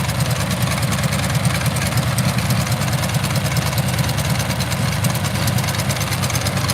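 A barn-found Dearborn baler's gasoline engine runs steadily, filled with fresh fuel and new oil, giving a loud, continuous rumbling drone with a fast, even chug that stays constant throughout and has no talking.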